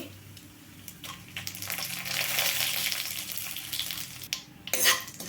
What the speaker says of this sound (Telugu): తాలింపు వేగాలండి